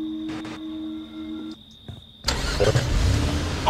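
A car in the video game Friday the 13th starts off with a low engine note that swells into a louder, rougher roar as it drives away, after quieter insect-like ambience.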